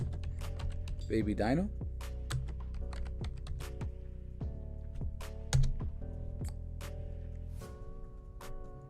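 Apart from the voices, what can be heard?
typing on a computer keyboard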